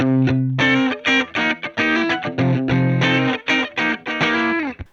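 Telecaster electric guitar played through a Spark 40 amp on the Blues Boy patch with EQ off, a lightly driven tone ringing out in a run of picked notes and chords with short gaps, close and loud with no talking.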